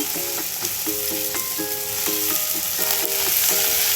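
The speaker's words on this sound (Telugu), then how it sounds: "నూనె వేడైందండి. ఇప్పుడు కాకరకాయ ముక్కలు వేసేసుకుందాం." Bitter gourd pieces dropped into hot oil, a loud, dense, steady sizzle with crackling close by, a few faint tonal beeps under it.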